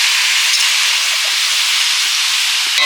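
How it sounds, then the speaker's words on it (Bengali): Water splashed onto potatoes and meat frying in a hot pan sets off a loud, continuous steam hiss that stays steady throughout, with a few faint clicks underneath. "ভেজে জল দেওয়া হয়েছে"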